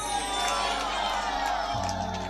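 A crowd at a Jagannath devotional storytelling gathering cheers and shouts in a dense, continuous wash of voices, close and steady throughout, with ululation-like whoops over the din.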